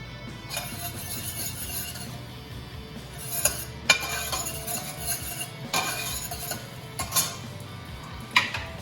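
A utensil stirs garlic cloves in avocado oil in a pan, giving a soft steady sizzle broken by several sharp metallic clinks and scrapes against the pan at irregular intervals.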